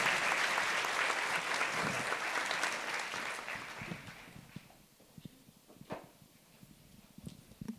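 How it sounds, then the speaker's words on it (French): A crowd applauds steadily, then the clapping thins out and fades to scattered claps and light shuffling. "Veuillez applaudir."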